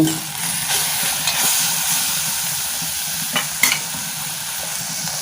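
Onions softening and frying in a covered pan for a brinjal and peas curry give a steady close sizzle and hiss, with a few brief clicks and scrapes of stirring. No one speaks.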